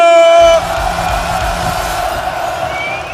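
Live rap concert crowd roaring, cheering and shouting in a loud sustained wall of voices, following a brief tonal shout at the start.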